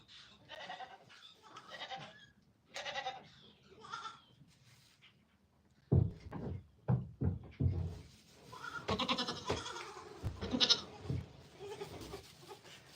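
Goats on a homestead farm bleat repeatedly during hoof trimming, several short, fairly loud calls following one another, with a busier stretch of overlapping cries toward the end.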